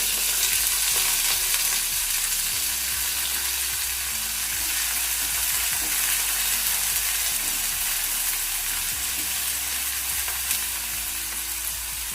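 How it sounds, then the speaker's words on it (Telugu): Chopped onions frying in oil in a pan for paneer bhurji, a steady, loud, continuous sizzle with occasional soft stirring scrapes, no voices. "ఉల్లిపాయలు కొంచెం బ్రౌన్ కలర్ వచ్చే వరకు వేయించుకోవాలి"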